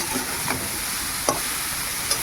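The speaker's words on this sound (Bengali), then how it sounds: "চাউমিনটা নেড়ে নিয়েছি" Chowmein noodles stirred in a hot pan after ground coriander and spices have fried, giving a soft steady sizzle with a few brief scraping strokes, close and alone without talk.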